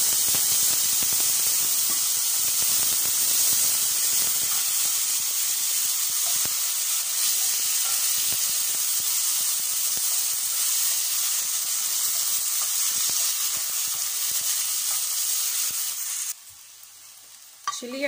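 Tomatoes hit a hot pan while cooking a dal, a loud, steady sizzle and hiss that fills the whole stretch, then cuts off abruptly near the end.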